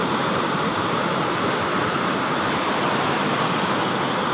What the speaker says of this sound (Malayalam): ഇവിടെയൊക്കെ നല്ല ഒഴുക്കുണ്ട്.